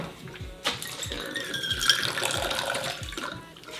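Liquid free-poured from a bottle fitted with a pour spout makes a steady splashing stream with a few light clinks, moderately close and without talk.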